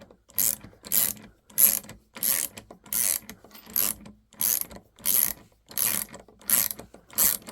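A VIM flex dual drive ratcheting wrench clicks in reverse in about eleven evenly spaced bursts of rapid pawl ratcheting. The clicks are close and crisp, and there is no talking.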